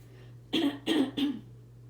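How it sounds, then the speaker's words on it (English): Three quick, close coughs in a row, moderately loud over a low steady electrical hum. "I keep coughing"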